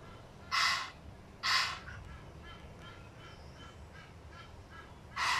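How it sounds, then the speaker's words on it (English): A small flock of geese visiting a home in Africa gives loud honking calls in three close bursts, with softer calls in between. "I've just been informed by our neighbor that these are actually geese."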